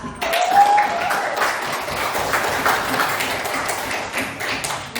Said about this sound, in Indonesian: Kasih tepuk tangan untuk kelas 8A